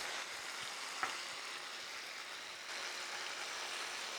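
Capers sizzle in a pan sauce in a cast iron pan with the heat cut off, a soft, steady crackling hiss at low volume with one small tap near the start, and no talk.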